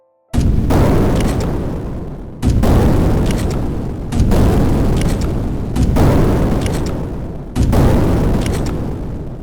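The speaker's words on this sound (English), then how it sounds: "a synthesized explosion makes a lot more sense to use in this context" A series of five loud synthetic booms, each a sustained noisy blast lasting about two seconds, following one after another with a retro game-like feel.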